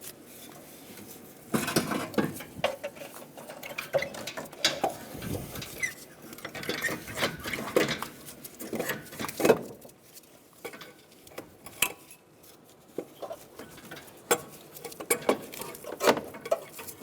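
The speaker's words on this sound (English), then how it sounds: "I'm going to take the bolts out and then remove it through the top." Bolts being loosened and removed with a ratchet from the AC compressor of a 2007-2012 Nissan Altima, giving a steady run of light metallic clicks, taps and scrapes close by with no talking.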